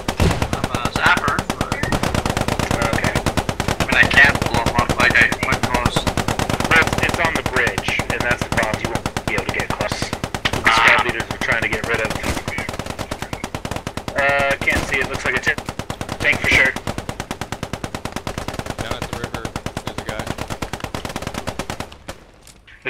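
Sustained bursts of Bren machine gun fire in the video game Post Scriptum, rapid rhythmic shots rattling almost continuously over a long stretch, with occasional voices talking underneath.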